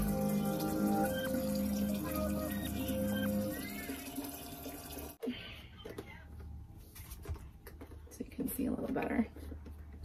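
Water runs and splashes from a water jug dispenser into a sink, then the flow stops and scattered drips and clatter follow, with a person talking over it.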